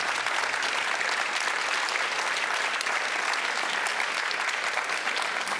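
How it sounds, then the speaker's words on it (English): Audience applause after a concert: dense, even clapping from a large crowd, loud and sustained without pause for several seconds, with no speech over it. "So good round of applause for them."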